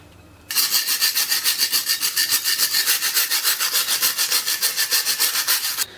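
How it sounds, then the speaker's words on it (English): A handheld wire brush scrubs old gaskets, dirt and rust off parts of a Briggs and Stratton 7hp engine, making fast, even back-and-forth rasping strokes that continue loud and close for several seconds. "for removing all the old gaskets and the dirt, and in some cases the rust like the flywheel, I've been using a wire wheel on a drill, and I've also been using a handheld wire brush"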